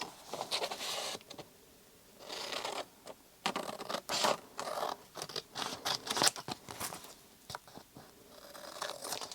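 Old book paper being trimmed with scissors for a journal, giving close, bursty snipping and rustling strokes in short irregular clusters with brief pauses between them.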